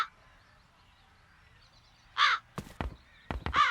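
Crows caw loudly and close by in the video game The Dark Eye: Chain of Satinav, with several harsh calls bursting one after another after a quiet, hushed ambience.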